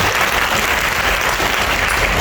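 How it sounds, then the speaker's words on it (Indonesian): Loud, dense applause from a church congregation at a women's anniversary service, continuous clapping packed close together for the whole short stretch. "Berikan tepuk tangan kita."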